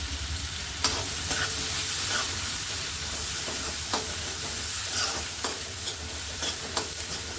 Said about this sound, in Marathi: कांदा आणि लसूण छान असा परतून घ्यायचा बारीक गॅसवरतीच